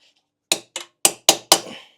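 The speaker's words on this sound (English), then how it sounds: "I should be able to hammer an 11mm on there" Five sharp metallic hammer strikes, evenly spaced and close, drive an 11mm socket onto heavily corroded exhaust studs on a fire-damaged Yamaha R6 engine.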